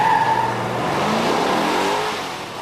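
A 1964 Pontiac GTO muscle car with a powerful V8 roars loudly, the engine note rising then easing away as it pulls past, with no voices.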